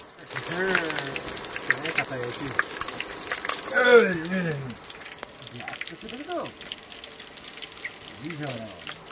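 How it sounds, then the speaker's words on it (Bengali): Green chilies, bay leaves, cloves and cardamom frying in hot oil at an outdoor picnic, a steady crackling sizzle running under frequent speech from the cook. "মশলার মধ্যে প্রথমে কিন্তু তেল যেহেতু গরম হয়ে গেছে, কয়েকটা কাঁচা লঙ্কা, সঙ্গে তেজপাতা আর দুটো লবঙ্গ, এলাচ"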